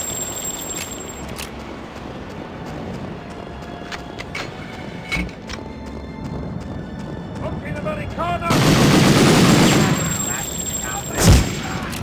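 Gunfire in the Medal of Honor remake, on a snowy mountain pass, comes as a dense burst of shots late on, then one sharp loud report, over a steady low game ambience.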